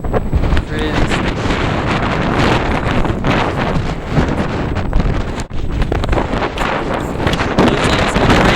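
Strong wind buffeting the microphone on the mountain-top summit of Saddleback Junior, a loud continuous roar with gusty swells throughout.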